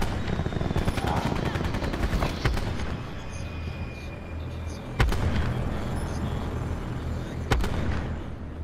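An attack helicopter in a shooter video game, with rapid machine-gun bursts and heavy booming shots over a steady rotor drone, punctuated by a few loud impacts.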